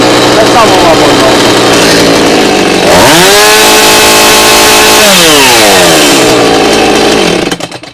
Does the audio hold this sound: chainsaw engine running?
yes